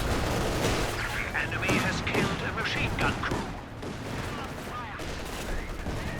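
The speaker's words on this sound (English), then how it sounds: "we've got some, whoa, zeroing artillery coming in" Incoming artillery barrage in the World War II strategy game Company of Heroes 2, a dense roll of booms and crackling blasts that keeps up across the whole stretch, with someone talking over it.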